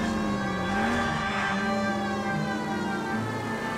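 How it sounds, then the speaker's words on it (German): Police car siren in the video game L.A. Noire wails continuously in a rising and falling tone, steady and moderately loud with no voices over it. "ich hab die beschissenen Sirenen an"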